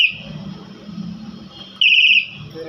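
A wireless vibration anti-theft bike alarm gives off a loud, piercing electronic tone, sounding steadily and then swelling into a brief harsher burst near the end, with low background rumble underneath.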